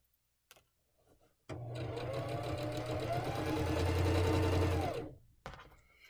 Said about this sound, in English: I'm going to take 3 stitches forward, 3 stitches back, and then I'm going to go to the end.